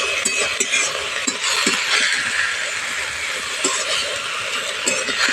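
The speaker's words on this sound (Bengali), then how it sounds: "আরও মিনিট খানেক সময় নিয়ে লাল শাকটা একটু ভালো করে ভাজা ভাজা করে নেব" Red amaranth greens are stirred and fried in a pan, a steady sizzling hiss broken by repeated scraping and clinking strokes of a spatula, close and fairly loud.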